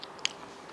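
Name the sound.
eating prawn pidi (chewing)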